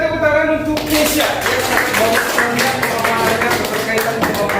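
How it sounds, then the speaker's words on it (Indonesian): Students in a classroom break into applause for a classmate, a busy patter of clapping that starts after a brief voice and continues steadily, close and fairly loud. "Berikan tepuk tangan untuk Keisha"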